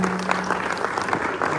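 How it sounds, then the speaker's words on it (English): An audience applauds at a book launch lecture in a hotel, a steady wash of crowd clapping at moderate distance with a faint voice underneath. "Yeah, you can clap, keep clapping"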